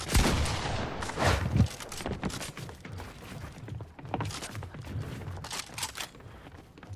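Shotgun blasts and rapid gunfire ring out in a shooter video game, several booming shots in quick bursts mixed with thuds and movement sounds, fairly loud and dense throughout.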